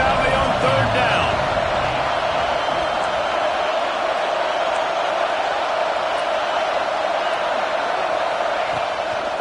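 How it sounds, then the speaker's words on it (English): Roar of a big stadium crowd in Happy Valley on a college football third down, a loud, dense wall of noise with shrill whoops, sustained throughout at full strength. "Here comes the noise from this big crowd in Happy Valley on third down."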